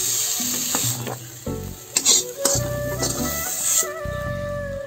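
Pointed gourd seeds sizzle steadily in a pan while being fried for a Bengali potol bhapa, with hissing frying heard alongside intermittent tonal background noises.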